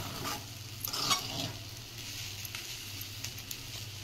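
Sabudana khichdi is stirred in a pan over low heat, soft scraping and tossing strokes over a faint sizzle, quiet and close with no voices.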